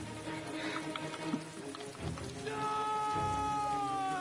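Steady rain patters over a low rumble in the game Heavy Rain, joined partway through by a sustained musical drone that holds under the downpour.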